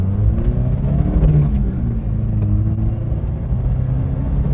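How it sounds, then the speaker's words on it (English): A 1983 Toyota Starlet KP61 with its engine floored while climbing a hill, a steady close drone rising gradually under load with a low cabin rumble. "So we've warmed the engine up quite nicely going uphill, which means we can floor it."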